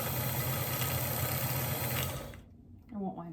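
A vintage sewing machine runs with a steady, fast mechanical hum and stitching clatter for about two seconds, then stops abruptly, leaving a quiet moment before faint handling sounds.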